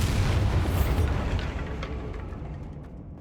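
A Bombarda spell explosion in the video game Hogwarts Legacy: a loud, deep booming blast that rolls out and slowly fades over a few seconds, with no talk over it.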